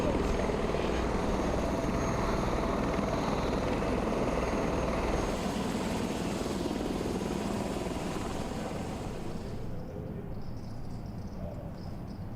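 A helicopter drones steadily with rotor and engine noise, heard from nearby, loud and continuous before easing slightly toward the end.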